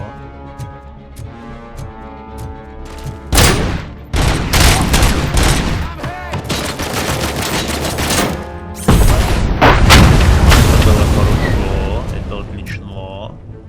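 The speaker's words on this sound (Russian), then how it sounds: "баллоны можно взрывать, окей" Gas canisters are shot and burst in the RoboCop: Rogue City game, heavy gunfire and loud explosive booms filling the clip in dense rapid bursts, with someone talking now and then.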